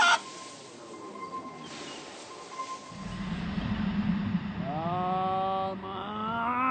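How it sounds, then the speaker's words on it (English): A chicken in GTA 5 gives nasal, rising clucks and squawks that grow louder near the end over a low droning background. "chicken! Not a rooster! A chicken!"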